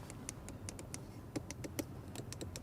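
Inside door window levers of an Audi RS7 Performance clicking as they are operated, a series of sharp, close mechanical clicks in an uneven rhythm over a quiet cabin background.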